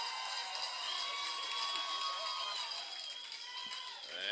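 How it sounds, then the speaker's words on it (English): Crowd at a Minnesota Class C state tournament baseball game cheering loudly after a strikeout, a steady sustained roar with excited voices rising and whistles, holding strong before easing slightly near the end. "And the goat crowd gets loud."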